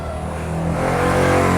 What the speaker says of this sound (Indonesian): sepeda motor tuh mulai ya, yang pakai knalpot yang keras